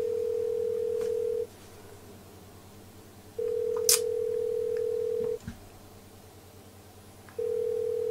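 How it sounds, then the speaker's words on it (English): An outgoing phone call rings back in steady repeated tones, three long beeps separated by pauses of quiet line noise, with no one speaking. "I'm going to press the call button now. And yeah, it's ringing guys."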